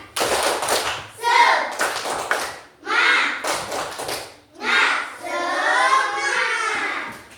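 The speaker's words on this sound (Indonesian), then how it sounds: "Ayo, tepuk semangat." Classroom children perform a rhythmic spirit clap led by their teacher, bursts of clapping and chanted voices alternating in short phrases with brief pauses between, close and fairly loud.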